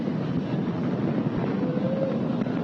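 A SpaceX Falcon 9 rocket carrying a crewed Dragon capsule climbs after launch, its engines making a continuous, distant, rushing low roar that stays even throughout.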